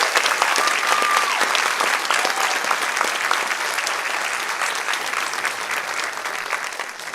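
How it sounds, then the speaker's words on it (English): An audience applauds students at a high school senior awards event with loud, dense and sustained clapping that holds steady for several seconds, with a few faint whistles over it. "let's give our students a round of applause"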